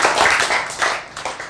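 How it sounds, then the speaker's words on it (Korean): A church congregation breaks into brief, loud clapping, a short burst of applause close by. "이럴 때 박수가 나오는 거예요."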